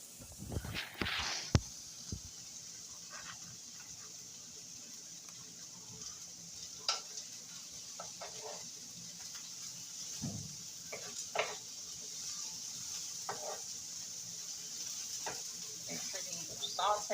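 Cornbread dressing with a pretzel bun, bread stuffing and cauliflower is sautéed and stirred in a pan, giving a soft continuous sizzle. Occasional scraping and utensil clinks ride over it, with a few sharp knocks near the start.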